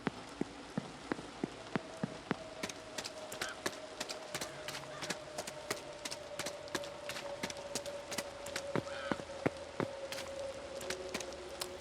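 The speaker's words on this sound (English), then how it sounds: "Of course, it's raining, man." Rain in the video game The Séance of Blake Manor, a soft, continuous patter with scattered sharp drips at an uneven pace and a faint steady hum underneath, with no one talking.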